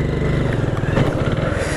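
A Hero 100cc motorcycle runs steadily with a low, rumbling engine drone throughout, close and loud, as if heard while riding on a long road trip.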